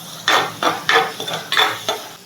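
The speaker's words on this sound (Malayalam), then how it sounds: "അതൊന്ന് കീറി ഇതിലേക്ക് ഞാൻ ഇട്ട് കൊടുക്കുവാണ് അതും കൂടി ഒന്ന് വഴറ്റിയെടുക്കാം" Green chillies, ginger and garlic sautéing in a pan, heard as four or five bursts of scraping and stirring with a soft sizzle beneath, close up and with no talking.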